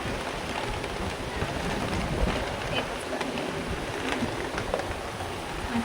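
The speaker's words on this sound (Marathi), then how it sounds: "हां वारं तेवढं सुटलंय" Wind blows hard outdoors, making a constant, close, rough rushing roar with no breaks for the whole stretch.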